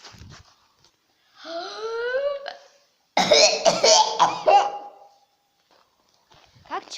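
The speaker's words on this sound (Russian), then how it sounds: "Тип людей, как кашляют дома." A person acts out a series of exaggerated coughs in a comic skit about how people cough at home: a drawn-out vocal sound, then a cluster of harsh, loud coughing bursts, followed by silence.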